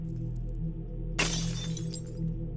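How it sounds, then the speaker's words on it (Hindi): Window glass shatters in one sudden bright crash partway through, the shards tinkling and scattering as it fades, over a low steady hum with no voices. "तभी राहुल के कमरे की खिड़की का कांच टूट जाता है।"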